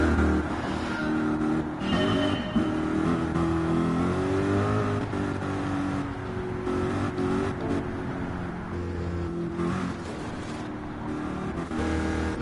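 Stock cars from the Nascar GT game on a formation lap at Northern Isle Speedway, engines droning steadily with rising and falling revs from the pack, no voices.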